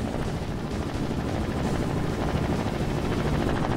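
A futuristic player-built helicopter flying in a video game, its rotor and engine making a dense, steady whirring drone that stays loud and even throughout with no voices.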